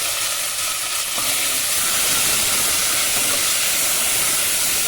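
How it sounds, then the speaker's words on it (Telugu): Loud, steady sizzle and hiss of onion, tomato and curry leaves frying in hot oil for a tempering, continuous throughout with no talking. "ఉల్లిపాయ ఒక మూడు టమాటాలు కరివేపాకు వేసి అయితే మనం తాలింపు వేయించుకుంటామండి"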